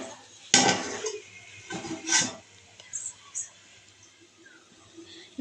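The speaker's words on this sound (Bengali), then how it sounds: "ঢাকনাটা আমি খুলে দেব।" A metal lid clinks and scrapes against a cooking pot of simmering potatoes in a home kitchen, two or three close clattering knocks followed by faint light taps and quiet background hiss.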